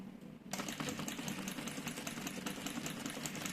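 Sewing machine starts after a brief quiet moment and runs in a fast, rhythmic mechanical stitching clatter, close and steady, while stitching a fabric organizer seam with backstitching at the start and end.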